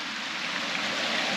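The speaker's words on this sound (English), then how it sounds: "Waterfall over there." Continuous rushing hiss of a waterfall seen across from the Fiery Gizzard Trail, even and fairly loud throughout, with no talking.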